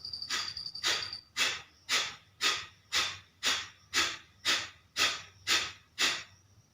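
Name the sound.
Kapalabhati breath of fire, forceful pumping exhales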